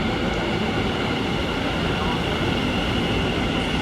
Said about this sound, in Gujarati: તો ભાઈ આવી ગયા છીએ મેટ્રો સ્ટેશને